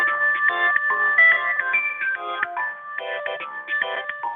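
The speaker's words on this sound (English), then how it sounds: "That's a nice ringtone, but does anybody know whose it is?" A phone ringtone plays a bright, repeating electronic melody in short phrases for several seconds during an online video-call committee meeting, clear and loud with no talking over it.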